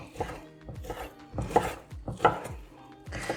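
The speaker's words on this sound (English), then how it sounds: "And I want this brisket chopped up real fine because we're going to have to stuff those peppers" A knife chops smoked brisket finely on a cutting board, a quick series of sharp close knocks in uneven rhythm, quiet and alone.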